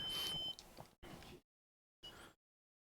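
A multimeter continuity tester gives a short, high electronic beep, followed by brief faint bursts of noise separated by silence.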